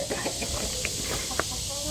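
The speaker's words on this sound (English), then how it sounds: "chickens are saying, let us out" Several chickens cluck and make short, scattered calls close by, with a few sharper squawks over a steady background hum.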